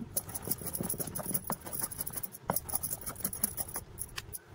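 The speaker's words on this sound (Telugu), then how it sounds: "కొద్దిగా నీళ్లు జల్లుకుంటూ నూరుకోవాలి, బాగుంటుంది." Amaranth chutney is ground by hand in a stone mortar with a sprinkle of water, giving irregular gritty, wet crushing and scraping strokes up close at a moderate level, with no talk.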